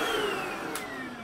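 A vacuum cleaner runs close by with a steady whining hum, its pitch sliding slightly downward over a brief stretch.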